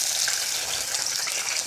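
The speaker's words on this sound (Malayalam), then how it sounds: "ചൂടാകുമ്പോൾ വെളിച്ചെണ്ണ ഒഴിക്കാം" Coconut oil heating in a hot iron pan gives a steady, close sizzle and hiss that holds evenly throughout, with no talk over it.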